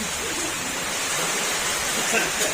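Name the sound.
heavy rain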